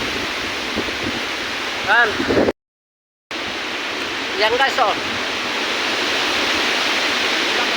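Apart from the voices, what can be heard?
strong wind with rain during typhoon Opong in Mindoro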